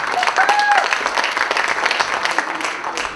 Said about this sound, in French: Un applaudissement pour elle.